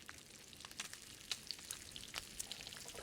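Venison cooks over a campfire in The Long Dark survival video game: a soft, fairly faint crackling sizzle with scattered sharp pops, and no voice.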